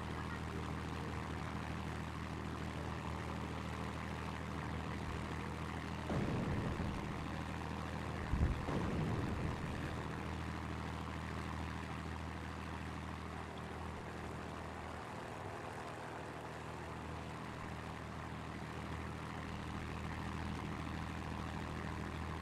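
Propeller airplane engines droning in the World of Warplanes video game, a steady, even hum throughout with a couple of brief louder sweeping passes near the middle, no talking.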